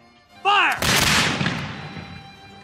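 Early firearms, muskets or small cannon-like guns, fire together in a volley: one loud, sharp blast that rolls on and slowly fades. A brief shouted command comes just before the shot.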